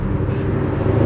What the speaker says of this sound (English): It sounds like totally different from like any other V8 that I've heard.